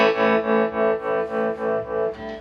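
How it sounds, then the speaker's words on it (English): An electric guitar played through a tremolo pedal, its chord throbbing in a regular, quick on-off pulse, several even swells in a row, loud and close with no talking. "But first it's into a tremolo."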